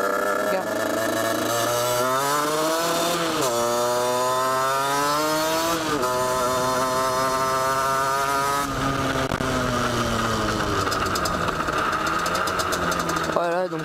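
Motorcycle fitted with a Conti exhaust revving repeatedly, each throttle blip rising and falling in pitch over a steady loud idle, with a sharper burst of revs near the end.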